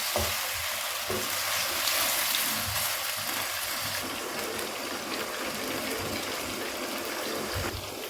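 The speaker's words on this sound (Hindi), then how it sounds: "लाइट ब्राउन होने तक हमने चिकन को फ्राई करना है।" Chicken pieces frying in hot oil in a karahi while being cooked to light brown, giving a steady, loud, continuous sizzle with occasional stirring scrapes and no talking.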